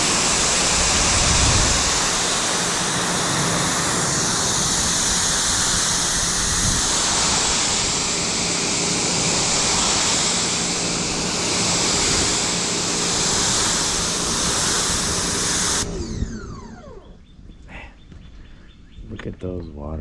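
A hose rinses a car during a maintenance wash of its Gyeon MOHS Evo coating, a loud, steady spray hiss that runs about sixteen seconds and then cuts off, leaving a quieter background with faint voices.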